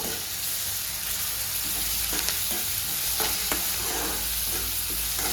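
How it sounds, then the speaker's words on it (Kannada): Onion frying in a pan with garlic and green chilli paste, a dense continuous sizzle with occasional soft stirring knocks, close and steady, no voices. "ಪೇಸ್ಟನ್ನ ಸೇರಿಸ್ಕೊಂಡು ಇದು ಕೂಡ ಹಸಿ ವಾಸನೆ ಹೋಗುವವರೆಗೂ ಸ್ವಲ್ಪ ಫ್ರೈ ಮಾಡಬೇಕು"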